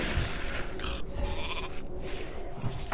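Sheep bleating from a polymorph spell in a video game, a few bleats over steady game ambience with no talk.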